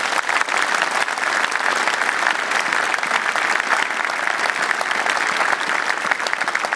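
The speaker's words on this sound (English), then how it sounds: "from our Salford audience, you also receive this multi-platinum round of applause" Studio audience in Salford giving a steady, full round of applause for a quiz show contestant, many hands clapping evenly and continuously with no voices over it.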